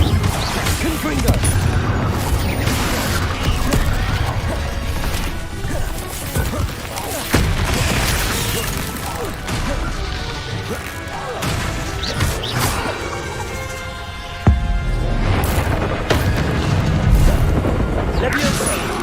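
Repeated Confringo fire spell blasts in the Hogwarts Legacy video game land as booms and crashes amid dense combat effects, with impacts scattered throughout and voices heard among them.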